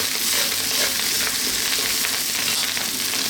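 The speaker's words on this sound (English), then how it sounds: "That is the rice frying and sticking a little bit on my wok, which I love." Chicken fried rice frying and sticking in a hot wok, a dense continuous sizzle with crackling spits, close and loud, steady across the whole stretch.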